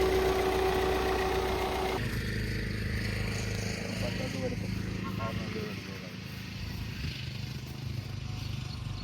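A 2015 Maruti Suzuki Ertiga VDi diesel engine idles steadily with a low, continuous rumble, close by and fairly loud, with a brief tonal hum at the start.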